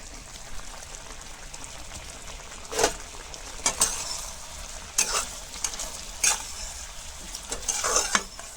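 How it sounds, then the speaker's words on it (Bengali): A thick sweet radish and sugar mixture is stirred in a hot pan, giving a continuous soft sizzle broken by several sharp scraping strokes of the spoon. "অনবরত ওরকম লাড়াচাড়া করব একটু করে করে।"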